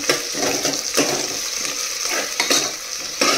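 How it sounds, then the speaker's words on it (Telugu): Two or three dry red chillies fry in a pan for a sour gourd stew, giving a dense hissing sizzle with rhythmic scraping stirs every second or so, fairly close and without talk. "ఇప్పుడు ఇందులోకి ఎండుమిరపకాయలు 2-3 వేసేస్తాను."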